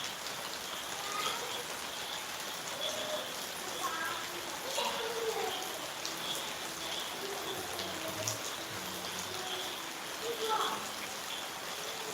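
Steady heavy rain falls throughout, a dense hiss of water on surfaces with scattered drips, while a person speaks quietly at times underneath.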